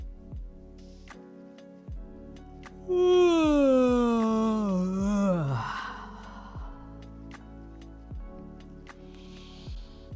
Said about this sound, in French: Démarrez votre bâillement bouche fermée et lorsqu'il est bien présent, ouvrez grand et laissez le son s'épanouir.